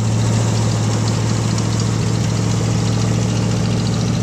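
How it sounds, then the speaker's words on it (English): A 1986 Ford F150 pickup engine idles fast and loud right after a cold start, a steady close rumble with a slightly uneven, knocking pulse throughout. "It should idle down in a minute"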